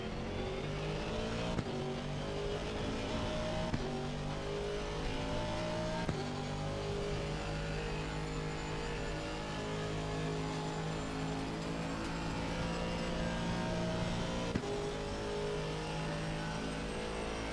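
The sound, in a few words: race car braking with ABS, tyre lockup in racing game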